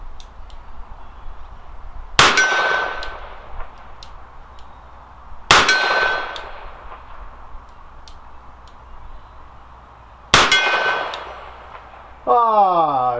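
Three loud revolver shots, each followed by a bright ringing clang from a steel target at the range, spaced a few seconds apart, with a faint voice at the very end.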